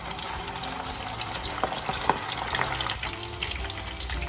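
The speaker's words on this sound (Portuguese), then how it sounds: "agora é só levar ali pro óleo quente para fritar" Thin chicken and cheese sticks fry in hot oil, a dense, steady bubbling sizzle with small pops and crackles, close up and continuous throughout.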